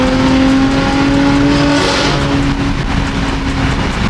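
A loud turbocharged car engine with an upgraded turbo revs hard and holds a strained, throaty roar, with the exhaust droning steadily throughout.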